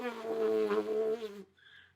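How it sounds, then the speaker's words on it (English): Lips buzzing for trumpet embouchure practice, a steady close, loud reedy drone with strong harmonics that holds for about a second and a half, then cuts off into quiet. "it just makes the rubbery middle part of your lips kind of buzz"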